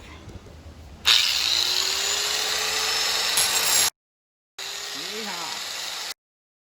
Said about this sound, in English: It'll just make it easier once I hit the sander.